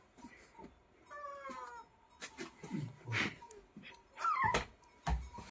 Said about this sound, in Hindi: बिल्ली की आवाज है।